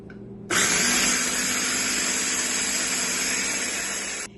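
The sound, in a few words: blender pureeing malanga with egg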